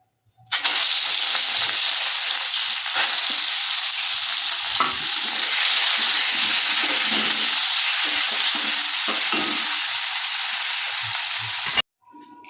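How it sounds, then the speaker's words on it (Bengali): Loud, constant hissing sizzle of prawns frying in hot mustard oil in a wok starts abruptly and holds steady, close up, then cuts off near the end; no talking. "আমি সর্ষের তেল দিয়ে দেবো মাছটা ভাজার জন্য"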